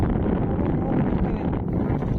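Wind blows across an open village field of cumin, a steady, loud rushing roar buffeting the microphone throughout, with no voices.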